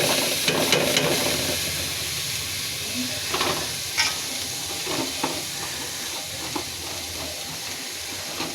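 Cubed potatoes, pointed gourd, onion and garlic sizzle together in hot oil, a steady close frying hiss with occasional clinks and scrapes of stirring in the pan.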